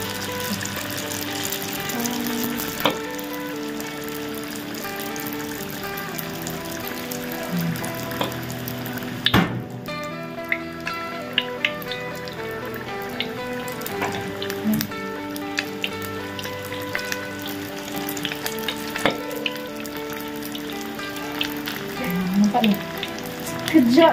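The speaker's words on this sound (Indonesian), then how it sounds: "Kita nak goreng kita punya popiah corn beef cheese." Corned beef and cheese spring rolls (popiah) fry in hot oil over medium heat, a continuous close sizzle with crackling pops, occasional clinks and a few turning sounds.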